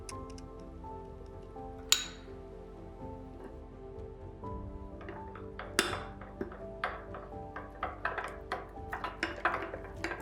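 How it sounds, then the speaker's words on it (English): A utensil stirs sourdough starter, water and flour in a glass jar, giving light clinks and taps against the glass, close and irregular, quickening toward the end. "Stir well until smooth."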